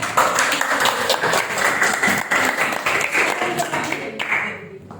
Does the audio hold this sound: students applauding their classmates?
yes